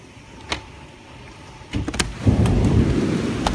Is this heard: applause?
no